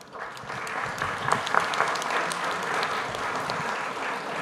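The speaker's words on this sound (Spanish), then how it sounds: "pido aplausos para él." Audience applause at a Spanish-language book presentation, a steady wash of many hands clapping for several seconds and holding at moderate loudness without fading.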